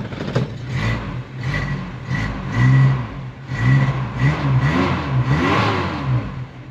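A vehicle engine just started, revving repeatedly in loud, close bursts that rise and fall in pitch in an uneven rhythm, idling between blips, with no talk over it.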